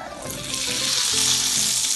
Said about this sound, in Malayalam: കുറച്ച് നേരം മൂടി വെച്ചിട്ട് മറിച്ചിട്ടിട്ട് നന്നായി പൊരിച്ചെടുക്കുക